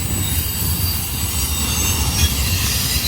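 Steady low rumble and a thin high squeal come from a DART light rail train passing in Dallas, with a few faint wheel clicks over the continuous rolling noise.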